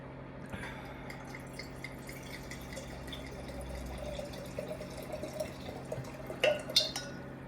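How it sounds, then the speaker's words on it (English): Water sloshes and drips inside an emptied wine bottle being rinsed out during home winemaking bottling, a soft continuous liquid patter with a couple of sharper glassy splashes near the end. "Rinse that out."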